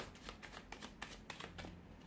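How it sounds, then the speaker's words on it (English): Tarot cards shuffled by hand, a soft rapid riffling and flicking of stiff cards close up, quiet and steady for about two seconds with no voice. "We'll give the cards a shuffle"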